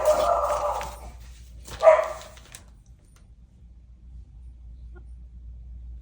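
Puppies indoors bark in two short, sharp bursts at a truck outside, the second burst louder, over a low steady rumble, followed by quiet.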